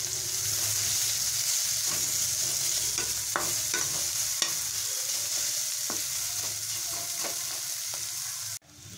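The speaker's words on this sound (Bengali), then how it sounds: "পেঁয়াজটা ভাজা হয়ে গেছে," Chopped onion fries in a pan with oil and broken green chili, giving a steady, close sizzle. A utensil scrapes and stirs in a few sharp clicks on top of it.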